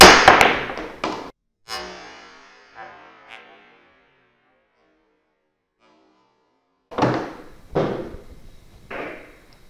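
A pool cue strikes the cue ball for a jump shot over other balls, giving sharp wooden clacks, a cluster at the start, a pause, then another run of knocks and ball clatter, close and clear.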